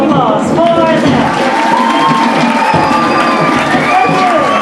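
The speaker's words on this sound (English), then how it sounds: "How about another nice round of applause for them?" A dinner-show crowd at a Polynesian luau cheers and claps loudly for the dancers, a dense roar of applause and shouts mixed with voices that stays strong throughout.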